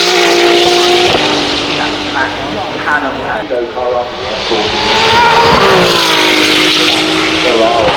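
Ferrari F80 with factory race exhaust accelerating at the Goodwood Festival of Speed, a loud rising engine wail that climbs through gear changes, heard close with crowd noise and voices in the background.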